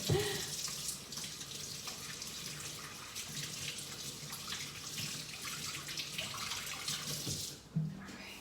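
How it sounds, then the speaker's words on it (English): Hands are washed under a running tap, a steady close rush of water that sounds alone for several seconds, then cuts off with a brief clunk near the end. "Let me wash my hands one more time."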